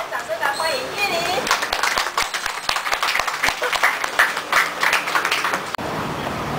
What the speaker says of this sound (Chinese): 来，我们掌声来欢迎玉林。